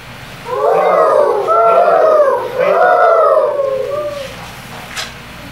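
Someone mimics a great horned owl with three deep hooting calls in a row, each one held, close by and clear, followed by a brief quiet tail.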